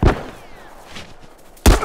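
Two sharp, loud rifle shots ring out close by, about a second and a half apart, with only faint background noise between them.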